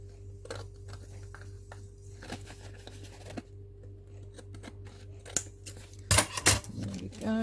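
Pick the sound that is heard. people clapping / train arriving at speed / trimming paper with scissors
trimming paper with scissors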